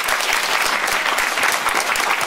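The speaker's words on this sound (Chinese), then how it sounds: "请我们用再更热烈的掌声感谢他" An audience claps steadily after a university lecture, the applause dense and continuous throughout with no voices.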